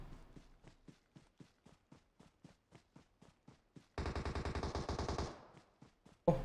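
Gunfire in PUBG Mobile on the Pandan map: a run of evenly spaced single shots, then a rapid automatic burst that cuts off, and a final loud crack, all fairly faint and distant-sounding.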